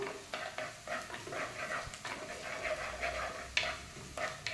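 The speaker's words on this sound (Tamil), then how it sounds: "நல்லா இது மாதிரி கிண்டி விட்டுகிட்டே இருக்கணும்" Ginger being stirred in a pan for an Onam dish, with a spoon scraping and tapping the metal in repeated short strokes over a soft sizzle, close up and without talk.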